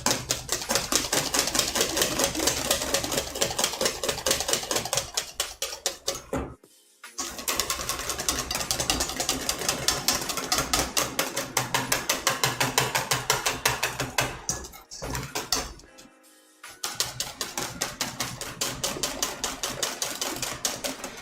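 A half-broken whisk beats rapidly against a bowl during a live-stream coq au vin and banana parfait cooking session: dense, continuous clattering strokes, close and fairly loud, with two short pauses.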